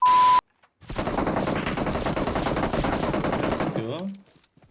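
A sustained burst of rapid automatic gunfire rattles through a video game for about three seconds, preceded by a short beep and ending with a brief electronic tone.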